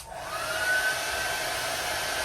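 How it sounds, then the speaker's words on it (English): A hair dryer blows steadily on its high setting, a loud constant whoosh with a thin whine running through it, close to the microphone and with no voices. "test out all three microphones with a running hair dryer"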